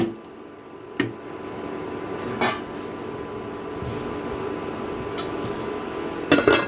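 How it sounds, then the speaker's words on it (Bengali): A lid is set onto a pan where watermelon rind is cooking, giving a few sharp metallic clanks, one near the start, one shortly after and a double knock at the end, over a steady low kitchen background with no talking. "এখন আমি একটা ঢাকা চাপা দিয়ে দিব"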